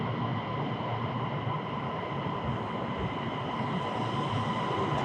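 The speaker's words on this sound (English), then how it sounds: "That's our train." A Chinese high-speed bullet train on the Wuhan to Shanghai line rolls into a station platform, a continuous smooth roar with a faint steady whine, no talking.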